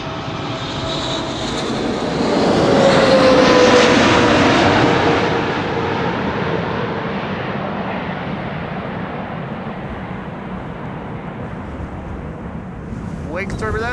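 A Chinese Boeing 777 jet passes low at Amsterdam Schiphol, its broad engine roar swelling to a loud peak with a falling whine, then easing into a long fading rumble with faint talk nearby.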